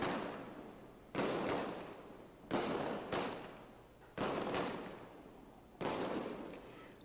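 Consumer fireworks going off one after another, five booming bursts at irregular intervals, each trailing into a crackling fade, heard from a distance.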